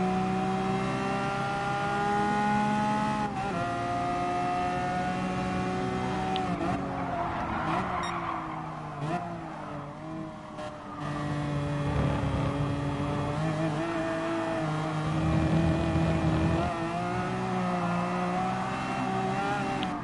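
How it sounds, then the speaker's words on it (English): Race cars in Gran Turismo Sport, including an Aston Martin and a DB11, roar past with engine revs rising and falling through gear shifts and bursts of tire squeal, fairly loud and continuous. "the Aston Martin Falcon just giving a little pass from the DB11"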